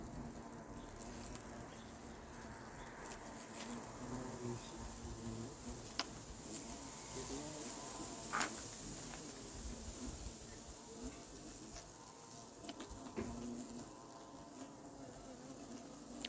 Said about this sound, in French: Voilà, un des 2 frelons est rentré, il est captif.